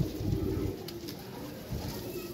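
Pigeons held in hot weather coo in low, soft, repeated murmurs close by, with a steady background hum and a little faint talk.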